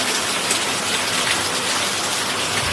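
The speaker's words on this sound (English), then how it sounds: "it is pouring out here" Heavy rain pours down outdoors, a loud dense steady hiss of drops hitting surfaces, continuous and close with no talking.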